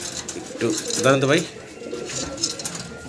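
A fancy pigeon coos nearby in a pigeon market setting in Gopalganj, a rolling burst of cooing rising and falling for about a second while someone speaks over and around it.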